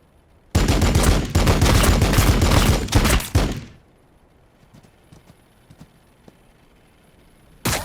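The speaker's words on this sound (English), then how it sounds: "Taking fire!" Gunfire in the video game Warhammer 40K Battlesector: a loud, dense burst of rapid shots that runs for about three seconds, then cuts off, leaving faint scattered battle noise and a brief loud hit at the very end.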